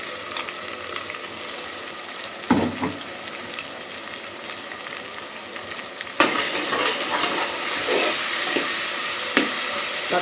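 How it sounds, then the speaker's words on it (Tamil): Ground masala paste for kurma sautéed in a pan, a steady sizzle with stirring scrapes and occasional clatter, growing louder partway through, with no voices. "மசாலா அரைச்சிட்டு வந்துருக்கிறேன் இதை போட்டு நான் வந்து நல்லா வதக்கிறேன்"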